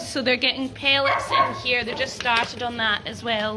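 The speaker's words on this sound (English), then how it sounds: "And I'll apologise for the barking dogs." Several farm dogs bark and yip repeatedly at close range while a person talks over them about lambs being fed pellets.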